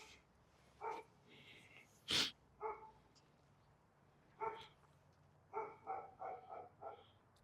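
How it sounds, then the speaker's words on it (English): A dog barks outdoors in a series of short, sharp barks, some single and some in a quick cluster of three or four, with a snort or sneeze in between, fairly close against quiet background hiss. "Do I let the dog keep barking?"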